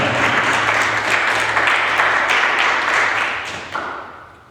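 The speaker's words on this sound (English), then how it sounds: "Give a round of applause to Arija." An audience applauds a poet after scores are read at a poetry event, a loud, close burst of many hands clapping that holds steady and then tapers off near the end.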